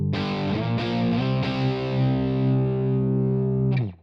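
A distorted electric guitar through an amp, split into wide stereo, strikes three sustained chords in quick succession, each ringing out full and loud before cutting off sharply at the end.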